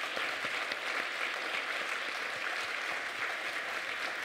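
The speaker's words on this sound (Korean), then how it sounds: "수고 많으셨다고 큰 박수로 축복해 주시기 바랍니다." A church congregation gives warm, continuous applause, a steady wash of many hands clapping together at moderate volume with no clear pauses.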